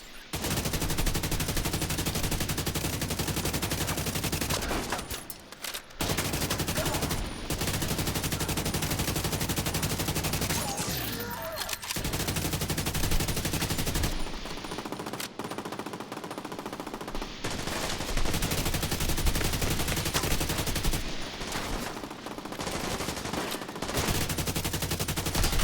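Sustained automatic gunfire from guards shooting in a Manhunt video game theater, loud and dense rattling bursts that fill nearly the whole stretch, with brief drops in the firing around the middle.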